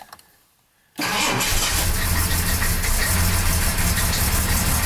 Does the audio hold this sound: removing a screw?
no